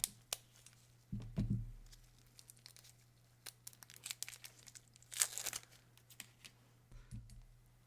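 Packaged nail art pens being unwrapped, with soft crinkling and tearing of plastic wrap in scattered bursts and a few faint taps and clicks, quiet and close.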